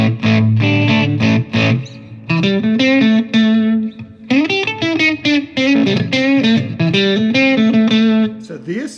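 A Glarry GTL semi-hollow thinline Telecaster electric guitar plays through a twin clean reverb amp setting, clean, ringing melodic notes with reverb, loud and close, and a few words are spoken at the start.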